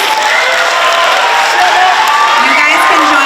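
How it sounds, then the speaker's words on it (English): A school audience of children applauds the month's award winners, with loud, sustained clapping mixed with cheers, whoops and excited young voices throughout. "Let's have one more round of applause for all of our January winners."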